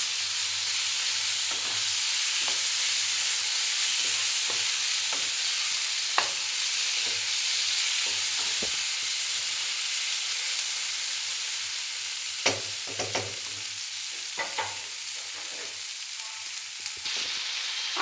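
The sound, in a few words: fried potatoes being stir-fried in spice paste for pangas fish curry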